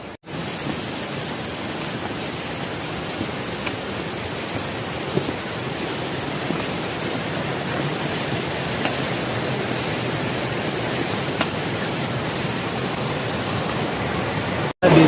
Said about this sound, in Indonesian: di samping kanan saya ada sungai kecil. Ini adalah aliran air dari air terjun Ciberem